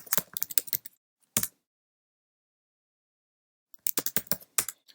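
Keystrokes on a computer keyboard typing a terminal command: a quick burst of clicky taps, one isolated key press, a long pause, then another rapid run of taps, close and clear with no voices.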